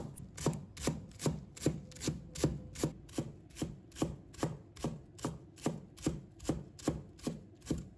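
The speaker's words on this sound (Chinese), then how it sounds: "再准备几根韭菜，把它切成小段。" Knife chopping Chinese chives into short pieces on a cutting board, about twenty steady, evenly spaced thuds close by, with no talking.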